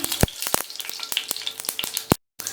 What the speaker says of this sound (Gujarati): અહીંયા આપણી રાઈ એકદમ સરસ રીતે ફૂટી રહી છે રાઈનું તળતળ બંધ થઈ રહ્યું છે